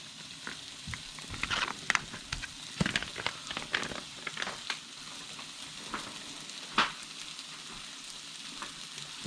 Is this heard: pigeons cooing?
no